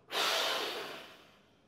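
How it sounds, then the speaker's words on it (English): A single forceful exhalation during a deep core breathing exercise, a close, breathy rush of air that starts abruptly and fades over about a second and a half. "force out exhale."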